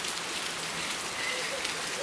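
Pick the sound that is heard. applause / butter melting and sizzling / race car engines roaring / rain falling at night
rain falling at night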